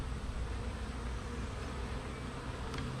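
Honey bees swarming at an active hive, a dense, steady buzzing drone close by that holds without pause.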